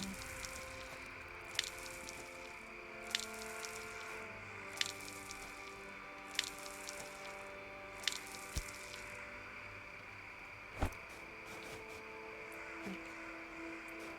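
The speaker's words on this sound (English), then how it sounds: "Water everything." Crops being watered in the farming game Mirthwood, a steady series of soft squishy splashes repeating roughly every one to two seconds over a quiet musical backdrop, with no talk.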